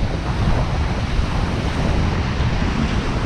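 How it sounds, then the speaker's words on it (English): Rough sea waves crash on a beach in a continuous loud rumbling wash, mixed with gusty wind buffeting the microphone. "The sea looks angry today."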